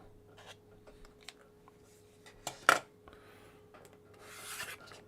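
Fabric for a quilted basket block is trimmed along a ruler, producing a quiet rasping cut that peaks in one brief, sharp stroke amid faint handling noises.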